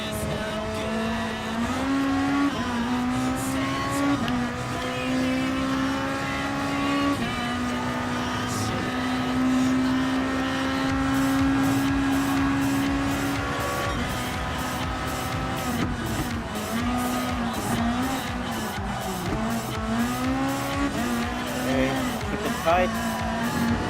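A race car engine in Gran Turismo Sport holds a steady drone that climbs and drops through gear changes, with tire squeal and a commentator's voice running over it throughout.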